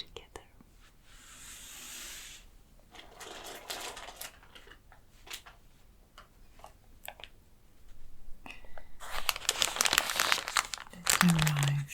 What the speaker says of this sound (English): so let's open it together.